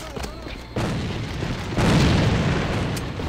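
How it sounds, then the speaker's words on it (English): Grenade blasts in an online shooter game: a sudden boom followed by a second, heavier explosion with a long rumbling tail, while players talk faintly. "Bросаю гранату!"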